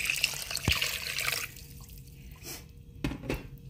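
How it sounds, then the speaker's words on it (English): Water pours into a slow cooker for smoked curry lentil soup, a steady splashing gush for about a second and a half that then drops to a few soft trickles and drips. "I'm going to put my water in."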